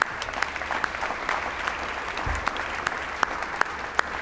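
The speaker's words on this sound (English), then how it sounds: "Please give all those teachers a round of applause." An awards ceremony audience applauding teachers, a broad hall full of clapping heard from a distance, with a few sharper individual claps popping out near the end.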